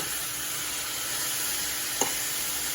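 Mushrooms and onions caramelizing in a pan give off a steady, close hiss of sizzling, with one brief louder pop near the end.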